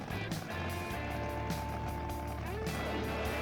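An alcohol funny car at a drag strip roars through a smoky burnout, a loud, steady engine drone holding near and constant throughout, with a brief lower rumble early on.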